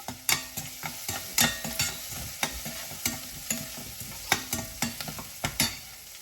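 Curry leaves crackle and spit in hot oil, sharp pops bursting irregularly over a steady sizzle, close by with no talking.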